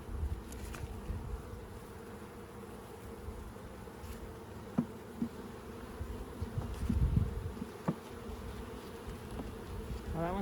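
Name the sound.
honeybees buzzing during swarm hive inspection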